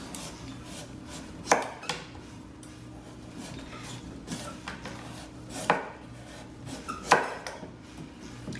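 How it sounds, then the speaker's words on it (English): A knife peeling the skin from a butternut squash, quiet scraping strokes with a few sharp knocks and clicks against a cutting board, close by and without any talk. "I'm just gonna go all the way down with my knife and just peel it this"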